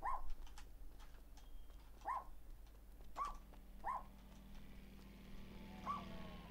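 A dog trapped and stuck in The Coin Game video game lets out short whimpering yelps at intervals, five or six brief cries over a quiet low background hum, with no voices.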